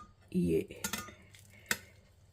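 A utensil cuts pieces of a baked gulab jamun cake soaked in sugar syrup with cardamom and saffron, giving a brief scrape followed by a few separate metallic clinks against the dish, with no talk.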